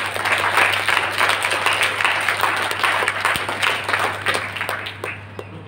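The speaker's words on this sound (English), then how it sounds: "Can you give yourself a round of applause for that?" At an entrepreneurship seminar, a roomful of attendees applaud themselves, with brisk, dense clapping over a steady electrical hum, strong at first and thinning as it tapers off near the end.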